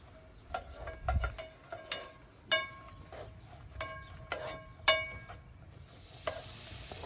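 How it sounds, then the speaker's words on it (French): A wooden spatula stirs bolognese sauce in a pan, giving repeated scraping strokes and light clinks over a soft, low sizzle of frying. "Ça commence un petit peu à frire."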